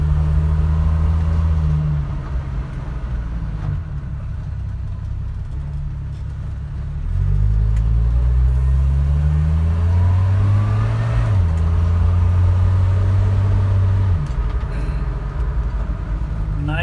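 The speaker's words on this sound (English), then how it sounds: "Very smooth. Great little engine. The slant 6 on this." A rebuilt slant six engine in a 1978 Dodge D100 truck runs smoothly while driving, its low drone climbing in pitch through each gear and dropping at the shifts, loud and close.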